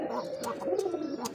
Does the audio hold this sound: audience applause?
no